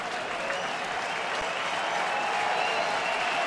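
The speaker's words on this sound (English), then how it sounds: "Here comes the crowd now." Baseball stadium crowd applauding at a Detroit afternoon game against the Angels, a broad, steady wash of clapping and cheering from a large gathering, heard at a distance.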